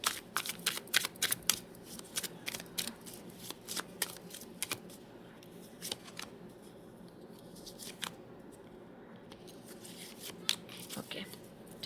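Tarot cards shuffled close up in quick crisp riffling bursts, busiest at the start and then thinning to scattered flicks, with soft speech faintly underneath.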